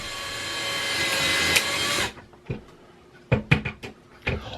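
A power driver whirs steadily for about two seconds while driving an anchor screw into a sheetrock wall, then stops, followed by a few sharp, close clicks and knocks from handling the tool.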